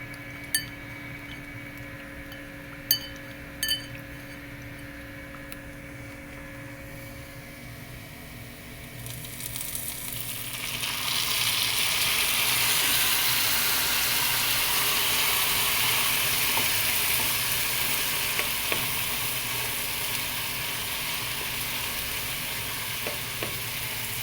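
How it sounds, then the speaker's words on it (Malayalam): Quiet pan noise with a few light clinks, then a loud, steady sizzle of spices and ground masala frying in hot oil takes over and continues to the end. "ഇതെല്ലാം കൂടെ നമുക്കൊന്ന് വറുത്തെടുക്കണം"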